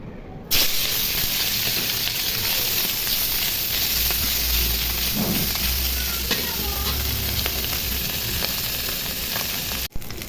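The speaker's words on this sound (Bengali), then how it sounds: "তেল গরম হয়ে গেছে, এখন মাছগুলো ভেজে নিব।" Tengra fish, cleaned and rubbed with turmeric and salt, fry in hot oil with a loud, steady sizzle and crackle that holds close up for the whole stretch, with a few faint stirring clinks and no talk.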